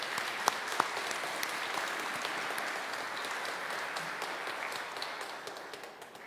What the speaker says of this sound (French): Je pense que ça vaut un applaudissement.